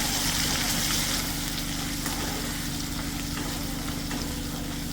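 A steady, loud sizzle and bubbling fills a hot pan after prepared gravy goes in for a Gujarati green long bean curry, continuous and close with no talking.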